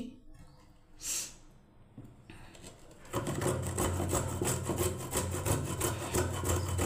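Ginger being ground into paste, a close rhythmic rasping scrape that starts after a short quiet pause and carries on steadily, with a brief rustle early on.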